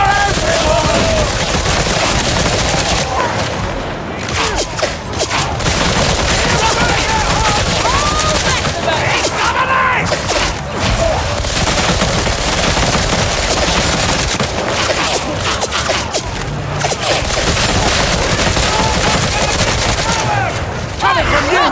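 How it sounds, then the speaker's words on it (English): Dense, continuous gunfire in the Warhammer 40000 Darktide game, volleys and bursts crackling nonstop with booms mixed in, loud and close, while voices shout over the battle. "Bullets are everywhere!"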